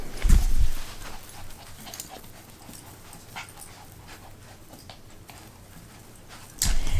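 Cockapoo puppy Jackson close by, with soft panting and light scuffling and paw sounds, louder bursts of movement at the start and end and quieter activity in between, no talking.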